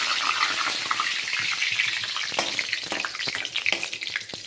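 A bay leaf sizzles in hot oil in a pan for chicken curry, giving a bright steady crackling hiss with a few sharper pops, close and loud, no voices.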